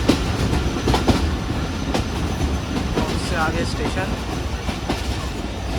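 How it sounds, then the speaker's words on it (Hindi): The 151UP Shah Latif passenger train is heard from on board as it approaches Pitani railway station, with a steady rumble, rhythmic clickety-clack of wheels over rail joints, and brief squeals. Someone talks briefly over the noise. "पिटानी रेलवे स्टेशन पहुंच रही है हमारी ट्रेन"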